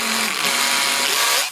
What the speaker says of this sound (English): I'm just marking the position here of where I want to drill the hole, and this aluminum is pretty easy to get through